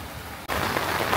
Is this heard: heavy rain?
yes